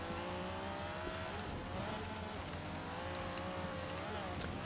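Tuned 800HP Ford Escort racing off-road in Forza Horizon 3, with a steady loud engine drone that rises and falls in pitch as it revs and shifts, plus tire and gravel noise, no talk.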